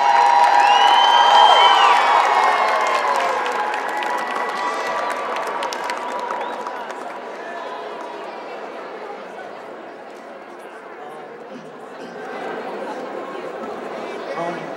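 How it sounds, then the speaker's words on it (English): A school choice rally crowd cheers and applauds for a high school junior, with loud clapping, whoops and shouts at first that gradually ease into softer applause and crowd chatter. "so please give him a round of applause."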